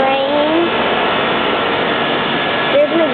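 Trane air conditioner unit at a golf center running with a steady, loud broadband whoosh of fan and compressor, close to the microphone, with a few faint tonal whines drifting in and out.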